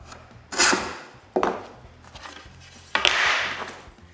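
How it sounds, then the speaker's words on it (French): Shoulder plane widening dado grooves in wood, three separate rasping strokes, the first and last longer and louder, with short quiet gaps between them, close by and without talk. "Je prends donc mon rabot à épaulement, puis j'agrandis les rainures."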